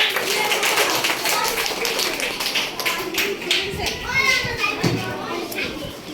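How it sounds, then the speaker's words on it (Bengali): Young children in a classroom-style activity break into scattered, overlapping claps amid lively chatter and an adult voice, the taps quick and uneven, close by and moderately loud. "সবার জন্য একটা হাততালি দিয়ে আমরা"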